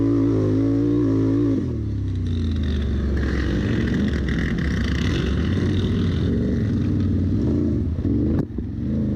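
Race car at full throttle on a short dusty forest stage, engine screaming loud and close before a brief lift, then droning on at high revs with rough, crackling texture, no voices.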